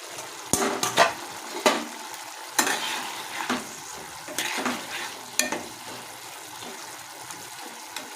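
Fish sizzling as it fries in a pan on a gas stove, with a crackling, hissing bed broken by sharper bursts and spatters as pieces go in and are stirred, close by and fairly quiet.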